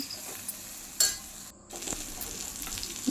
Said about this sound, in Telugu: కొద్దిగా అల్లం వెల్లుల్లి పేస్ట్ బాగా కలిపి మగ్గి మగ్గనివ్వాలి